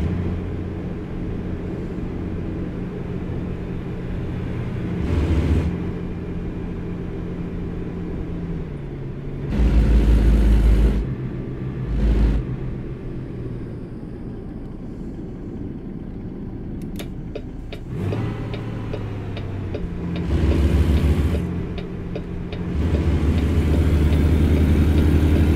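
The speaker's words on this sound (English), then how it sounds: "It just doesn't sound like it's that high of an RPM on the engine yet" Truck engine running in American Truck Simulator, a steady low rumble throughout with several louder swells and brief bursts, heard alone without talk.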